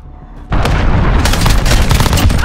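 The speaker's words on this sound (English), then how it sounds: "Allied cruise missile launched." Cruise missile strike in Call of Duty: Modern Warfare (beta multiplayer): after a half-second of quiet, a loud booming blast erupts and rolls into a sustained barrage of heavy explosions and rumbling impacts.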